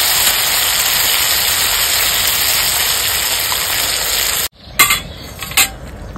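Eggplant pieces fry in a pan for a light fish curry, a loud continuous sizzle that cuts off abruptly, followed by a few separate clanks of a spatula against the pan.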